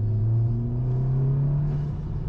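A car fitted with a Remus exhaust and an IE downpipe gives a deep, steady exhaust rumble that stays loud and close throughout.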